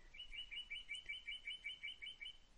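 A recorded bird call played back from a web drum kit, a rapid series of bright repeated chirps in a steady rhythm, clear but quiet with little else behind it.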